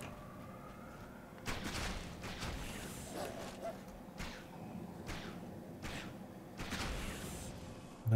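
Gunfire aimed at an albino spider in the Titan Quest video game: a few sharp, loud cracks spread across the clip, standing out against a busy, murmuring game background.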